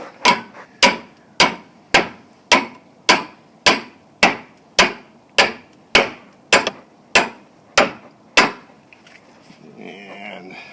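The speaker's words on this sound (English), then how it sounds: "you go ahead and hammer that" Someone hammers a metal Simpson Strong-Tie E-Z Mender FPBM44E onto a fence post during a repair: about fifteen sharp, evenly spaced blows ring out close by, followed by quieter shuffling.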